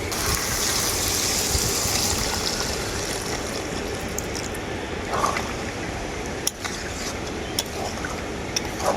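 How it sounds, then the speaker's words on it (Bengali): Water is poured into a pan of fried spice paste for a curry, giving a steady close gush and trickle with a faint sizzle underneath throughout. "এখন আমি এর মধ্যে পরিমাণ মতো জল দিয়ে দেবো"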